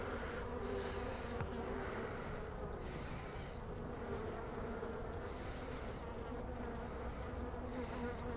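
A dense, continuous drone of many honeybees buzzing together inside a hive, steady and close, with no voices.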